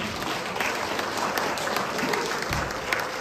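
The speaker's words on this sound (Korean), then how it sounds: "박수를 다시 한번." Audience clapping in a hall at a book launch celebration after a debut song performance, a full, even round of applause sustained throughout.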